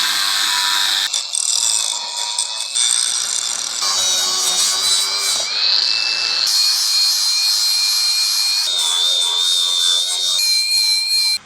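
Metal stock for a landscape trailer ramp gate being cut with a power tool, a loud sustained grinding, rasping whine broken into several passes with short pauses, close up and nearly continuous.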